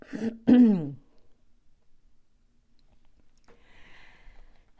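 A short, close throat clearing with a muffled, stifled cough, followed by near silence and faint rustling.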